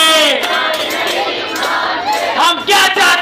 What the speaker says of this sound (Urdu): نوجوان روڈ پہ آگے نعرے لگاتے ہیں